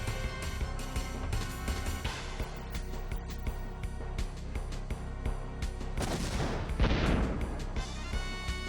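Gunshots in Wild Arms, sharp repeated shots and booming impacts layered over game music, with a large blast near the end.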